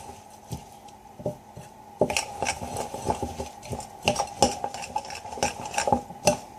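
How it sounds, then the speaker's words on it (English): Hamster seed treat mix with peanut butter stirred in a bowl: close clinks and scrapes of a metal spoon with a gritty rustle of seeds, quickening into busy, irregular strokes, no talk. "Mix that all together."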